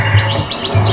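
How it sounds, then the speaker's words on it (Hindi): Birds chirp at night in a quick series of bright, close, repeated tweets that come in short bursts. "उसी समय पूरे वातावरण में रात्रि के समय सारे पक्षियां चहचहाने लगे।"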